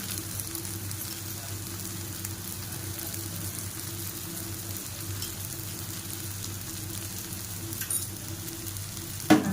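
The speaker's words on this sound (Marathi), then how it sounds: "आता आपण ती सुकट त्या कढईमध्ये टाकूया" Soaked dried shrimp (sukat) fry in a kadai with a steady, even hiss of oil that runs on unbroken. A brief clatter of a utensil comes near the end, and no one speaks.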